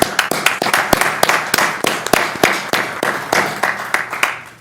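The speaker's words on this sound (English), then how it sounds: "We owe them an applause" Applause at a school committee meeting: a small group clapping steadily in a room, sharp hand claps close and fairly loud, continuing without a break and with no talk over it.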